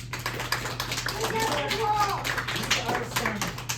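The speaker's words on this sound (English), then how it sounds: "Let's give Hugo a big round of applause." A second-grade class claps for a classmate during an English lesson, with scattered patters of clapping and tapping under a voice, over a steady electrical hum.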